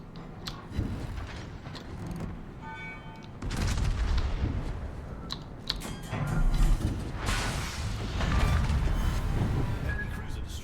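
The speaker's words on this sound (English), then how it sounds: "Torpedoes, direct front. Fire, fire, fire." In World of Warships, a warship fires torpedoes amid booming, rumbling naval battle noise, loud and layered with bursts and mechanical thuds.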